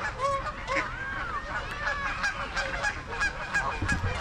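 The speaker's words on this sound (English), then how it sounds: "I think that's a gray lag goose" Greylag goose at Kenneth Hahn Park, California, honking repeatedly up close, loud nasal calls in an irregular series over outdoor background noise.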